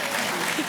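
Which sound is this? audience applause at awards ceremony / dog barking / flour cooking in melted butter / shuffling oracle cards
audience applause at awards ceremony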